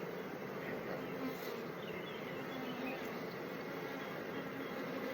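Honey bees buzzing at an apiary in a dense, continuous drone, close and steady throughout with no pauses or voices.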